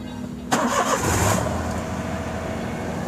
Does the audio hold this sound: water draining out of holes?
no